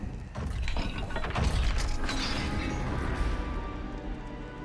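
A heavy gate mechanism slams and grinds shut in Hogwarts Legacy, with a crashing impact followed by a sustained rumbling, rattling roar that slowly fades over several seconds.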